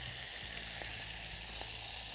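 Capers sizzle in hot oil in a pan on an induction cooktop, a steady, close hiss with faint crackles that holds without a break and no talking over it.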